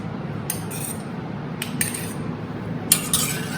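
Pasta is being stirred together with red and white sauces, and a utensil clinks and scrapes against the cookware in three short clusters over a quiet background.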